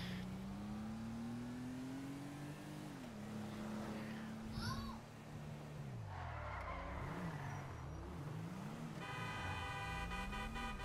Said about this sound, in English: Stop honking on me.